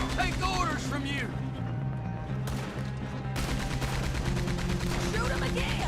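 Rapid, dense gunfire from the Wild West game Red Dead Redemption 2, with repeated shots crackling steadily through a horseback shootout, mixed under loud overlapping voices and game music.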